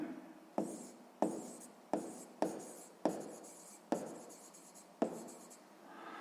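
Pen or pencil strokes writing the digits of a fraction for a sixth-grade maths exercise, seven distinct short scratchy strokes at a steady pace, close and fairly quiet, with no voices.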